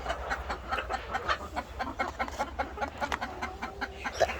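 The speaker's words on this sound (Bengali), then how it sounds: "এখানে 2টি মুরগি আছে, আমায় দেখি পেল" Several chickens cluck and murmur close by in a coop beside a nest with eggs, short repeated calls overlapping in an uneven rhythm over a low background hum.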